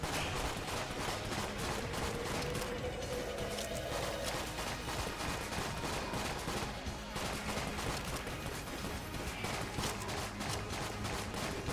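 Dense, continuous gunfire from the Enter the Gungeon video game with shadow bullets, a relentless rapid stream of shots and chaotic effects at steady high loudness for the entire stretch.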